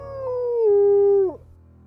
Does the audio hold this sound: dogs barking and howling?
yes